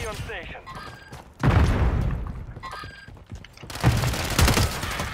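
Rapid volleys of gunfire crackle through a tense multiplayer shooter match, bursts starting suddenly and swelling again later, with players talking over the shots.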